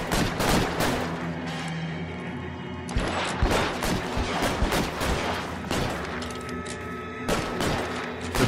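Gunfire in the L.A. Noire detective game, a loud, fast series of sharp shots and bursts with crashes scattered between them, close and continuous, with no talking.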